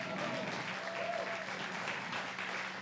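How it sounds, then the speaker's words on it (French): Applause from a lecture audience at a talk on Yves Saint Laurent and Picasso fills the room as a steady, dense clapping that holds at even strength throughout. "un tonnerre d'applaudissements"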